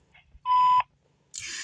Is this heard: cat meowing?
no